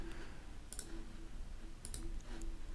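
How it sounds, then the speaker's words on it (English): A few sharp, close mouse clicks, two quick pairs, over a quiet steady hum of a computer setup, with no speech. "I'm going to click OK."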